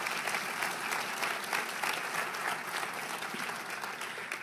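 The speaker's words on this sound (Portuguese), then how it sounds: "Dê para Jesus uma forte salva de palmas." A church congregation at a Baptist prayer meeting claps in sustained applause, a dense, even wash of many hands with slight swells that continues throughout before tapering a little at the end.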